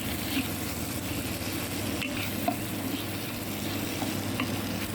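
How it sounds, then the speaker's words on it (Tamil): Onion, tomato and ginger garlic paste frying in a pan for mutton gravy, a steady close sizzle with occasional stirring scrapes, no voices. "கொஞ்சம் நேரம் நல்லா வறுத்துடணும்."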